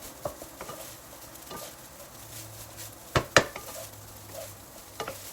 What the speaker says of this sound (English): Once you add them, stir fry until everything is well combined.